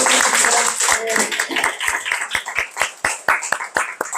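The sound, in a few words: audience applause after lecture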